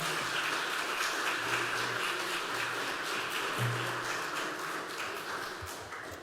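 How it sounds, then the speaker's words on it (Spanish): Applause from an audience welcoming panel members at a Spanish-language forum, a steady, even wash of many hands clapping throughout, with a faint low hum beneath. "Démosle una calurosa bienvenida con un aplauso a los integrantes de este segundo panel."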